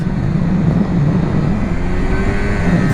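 A 2019 Kawasaki Z125 motorcycle's engine drones loudly and steadily while accelerating on a test ride, with a continuous close-up exhaust roar and a slight rise in pitch near the end, and no voices.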